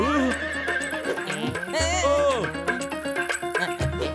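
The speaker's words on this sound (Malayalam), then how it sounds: "ഡോക്ടർ ജഡ്ക, ഈ കുതിര വളരെ ഉപകാരപ്രദമാണ്." Cartoon robot horse neighing loudly with whinnies rising and falling over a steady music bed, with faint hoof clatter in the background.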